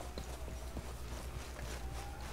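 Hooves of an Appaloosa horse with a leopard coat clip-clop steadily in Red Dead Redemption, the footfalls falling in an even walking rhythm over a low, constant background rumble.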